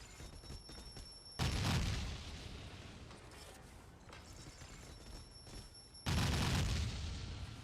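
Two loud, muffled bomb trap blasts go off in Meet Your Maker, each one sudden and booming with a rumbling tail, spaced a few seconds apart over a low background hum.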